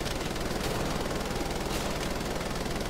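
Sustained turret machine gun fire in Wolfenstein: The Old Blood, a dense, unbroken roar of rapid shots that stays loud and steady throughout with no pauses.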